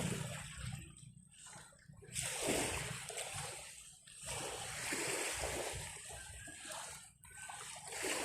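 Broadband wash of sea water along a shoreline, steady and fairly close, with surges of surf swelling and easing over the span.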